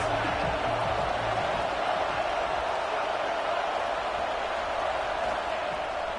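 Steady roar of a stadium crowd in a college football video game, a dense continuous wash of massed voices holding at an even level throughout.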